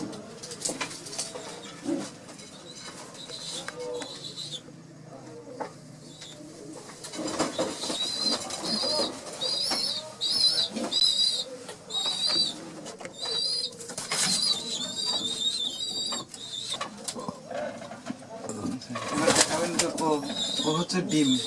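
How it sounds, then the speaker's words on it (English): Pigeons cooing in low, repeated calls over a busy background of other chirping birds and ambient noise, with a voice speaking intermittently through the middle. "to make sure you know what is pigeon, let's watch the video"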